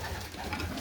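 A racing pigeon coos softly and steadily inside a loft, a low, close, throaty murmur filling the short moment with no talking.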